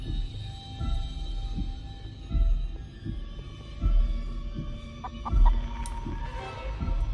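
Chicken clucking in the horror video game Chicken Feet, a few soft clucks over a low pulsing thump that swells and fades in a slow rhythm, with faint tonal hum behind.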